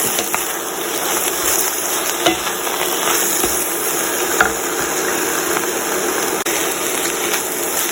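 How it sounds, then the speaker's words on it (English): Kale sizzles and crackles steadily in a hot pan as it sautés, a close, continuous frying hiss with a few light scrapes of stirring. "I'm just going to give it one more stir and let it cook down just another minute"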